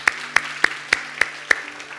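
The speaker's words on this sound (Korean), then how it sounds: "우리 다시 한번 하나님 앞에 감사의 박수 올려드리도록 하겠습니다." Six sharp, evenly spaced claps ring out in a church sanctuary during a Korean Sunday worship service, a steady rhythmic clapping of thanks from the congregation with no talk over it.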